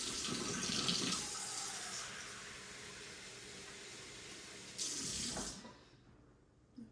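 Warm water pours steadily from a tap for flour tortilla dough, a bright continuous splash that stops briefly, surges again, then cuts off, leaving a quiet room.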